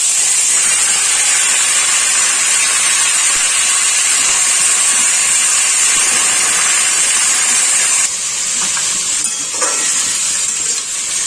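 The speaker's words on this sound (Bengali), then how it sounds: "এবার আমি এর মধ্যে চাল কুমড়োটা দিয়ে দেবো" Ash gourd dropped into hot sunflower oil tempering sets off a loud, steady broadband sizzle that holds throughout, easing slightly toward the end, with no talking.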